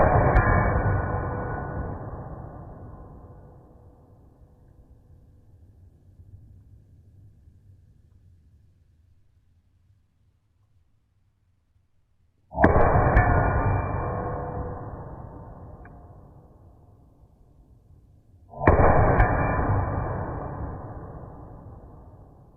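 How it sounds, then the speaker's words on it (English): Three heavy shots from a Zev Technologies Oz9C pistol, each a sharp loud crack followed by a long rolling echo, the first fading out over several seconds before two more land about six seconds apart. "So let's do a little bit more shooting."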